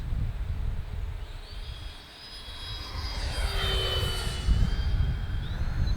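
A Freewing L-39 Albatros RC model jet makes a slow pass in gusty wind, its continuous turbine whine rising and sweeping in pitch as it goes by, over rumbling wind noise.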